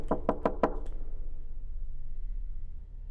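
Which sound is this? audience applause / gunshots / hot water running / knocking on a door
knocking on a door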